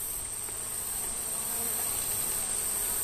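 A swarm of bees hums around the spot where their old hive sat during a hive transfer in Tobago, a dense, continuous buzzing that stays close and steady throughout, with no voices.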